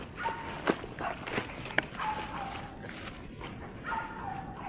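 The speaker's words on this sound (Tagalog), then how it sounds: "May aso." A dog whimpers and yips in thin, high whines over outdoor background noise, with some soft footsteps and faint voices.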